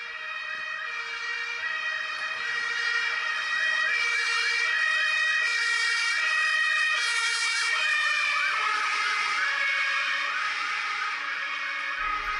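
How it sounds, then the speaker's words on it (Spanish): A wailing ambulance siren sounds continuously and loudly, its pitch sweeping up and down, then dropping noticeably as the vehicle passes, with traffic noise underneath. "escuchar el sonido de una ambulancia o bomberos acercándose a nosotros"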